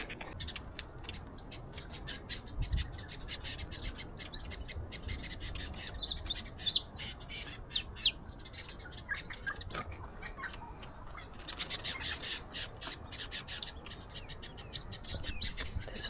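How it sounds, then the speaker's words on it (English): Tiny birds resembling fairy wrens chirp among sand dunes, with rapid high twittering calls scattered throughout over faint rustling background noise. "These tiny little birds. I think they're similar to fairy wrens"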